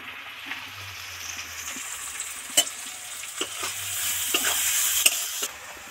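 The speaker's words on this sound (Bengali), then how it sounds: "পেঁয়াজ তো সবটাই ভাজা হয়ে গেছে" Onions frying in a pan for a tiger prawn kalia, a steady close sizzle with scraping stirs and a few sharp clinks of the spatula against the pan, with no voices.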